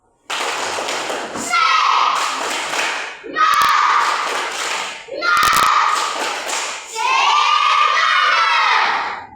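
Children loudly shout the Indonesian 'tepuk semangat' clapping chant in four energetic bursts, with a few sharp claps and thuds cutting through between phrases, close and at full volume.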